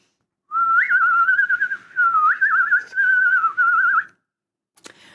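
Someone whistles a sea-shanty-style tune close to the mic, four steady phrases with small trills and pitch bends, loud and clear with no talking, then a brief click after it ends.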